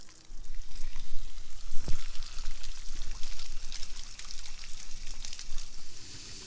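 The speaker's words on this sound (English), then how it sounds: "I will go ahead and start injecting water" Water is forced through the radiator hoses of a Honda Africa Twin motorcycle as a steady close pouring, gushing rush with splashy trickles, continuous and fairly loud throughout.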